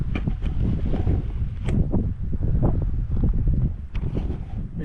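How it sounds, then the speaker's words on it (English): Strong wind gusts buffet the microphone at a lakeside campsite at Lake Tennyson, a steady, loud rumbling roar with rustling bursts and no voices. "It hasn't really eased off for me to do any fishing or anything."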